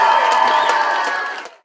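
Concert crowd at a holiday folk festival applauds and cheers, a loud mix of clapping and voices that holds steady before cutting off abruptly.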